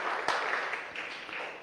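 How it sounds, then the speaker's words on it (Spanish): A church congregation applauds with a dense, steady wash of clapping that stays moderately loud for the whole moment, with no clear voices. "Yo quiero que le des una ofrenda de palmas a Jesús"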